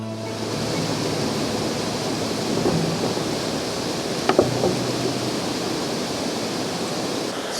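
Rushing water from a waterfall in Snowdonia, a steady broadband roar running unbroken from start to finish, with a couple of brief faint knocks near the middle and no voices.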